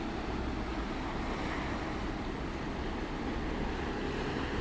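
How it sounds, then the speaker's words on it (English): Ocean waves crashing on rocks about 100 feet below a cliff, a continuous broad roar of surf mixed with wind buffeting the microphone, no voices. "The waves crashing on the rocks, 100 feet below us."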